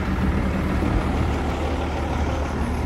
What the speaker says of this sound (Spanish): ahorita andamos en el Hino acá, miren. Ahí está el Hino.